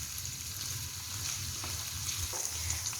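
Canned corn sautés in a hot pan with a steady, close frying sizzle and soft crackle, occasional light scraping as it is stirred, with no talk.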